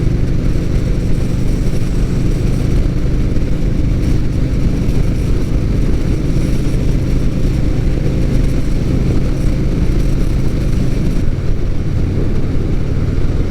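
A Victory Gunner motorcycle cruises along the road in sixth gear, its engine a steady, loud low drone under continuous wind rush, with no speech.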